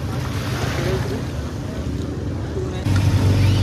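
A boat ride on the sea off Alibag beach, with a steady engine rumble and wind buffeting the microphone over washing water, growing louder toward the end.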